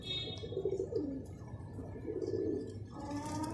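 A pair of Teddy pigeons coos in soft, repeated rolling phrases, close by and fairly clear, with faint chirps and light background noise and no talking.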